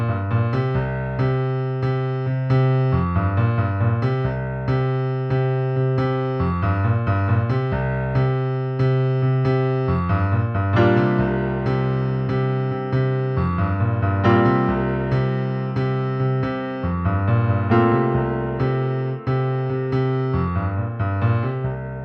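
Solo piano plays the main chord progression of a song in a steady, rhythmic pattern of repeated chords with a sustained low bass, close and clear for over twenty seconds with no talking.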